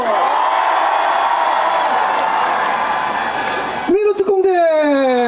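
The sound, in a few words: concert audience cheering and shouting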